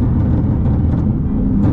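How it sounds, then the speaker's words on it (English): Car traffic on a busy highway heard from inside a moving vehicle: a loud, steady engine and road roar with a whooshing rise near the end as a car passes fast close by. "that car coming hella fast"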